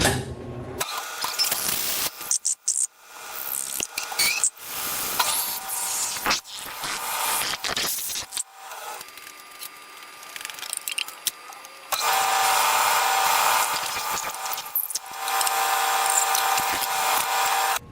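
A metal shaper machine in a home shop, being restarted after repair work on its shaper nut, runs with a steady mechanical whir and clatter. Bursts and pauses mark the first half, then louder continuous running follows, with no talk.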